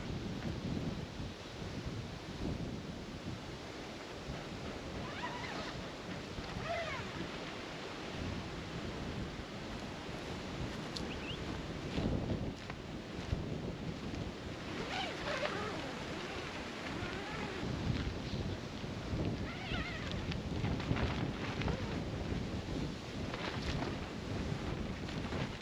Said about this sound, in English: So as you can see, it's a very windy day today.